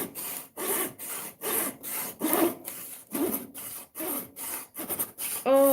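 A small saw cuts slices from a cinnamon stick in about a dozen quick, rough back-and-forth strokes, close and scratchy with short gaps between them.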